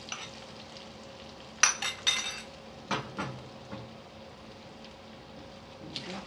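Mutton chukka being stirred in a pan, with spoon or spatula scrapes and clinks over a low sizzle, several sharper strikes clustered in the middle and near the end.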